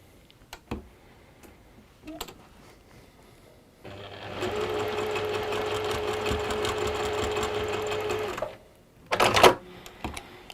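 Sewing machine stitching over a small triangle on quilt pieces, a close steady run of rapid ticking whir lasting several seconds, framed by quiet handling clicks and a brief rustle.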